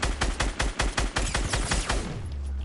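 Rapid bursts of automatic gunfire ring out during a firefight in a video game, a dense run of sharp cracks in quick succession that thins out and stops near the end, with no talking.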